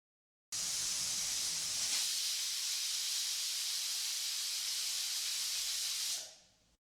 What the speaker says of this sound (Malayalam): ഇതിപ്പോൾ 6 വിസിലായിട്ടുണ്ട്.